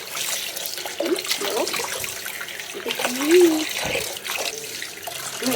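Tap water runs steadily while a large fish is washed, a continuous close splash and gush with a voice speaking over it.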